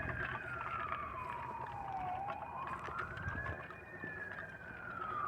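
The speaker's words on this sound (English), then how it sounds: "Is it an ambulance?" A wailing siren sweeps slowly down and back up in pitch, steady and fairly loud over background traffic rumble, like an ambulance passing nearby.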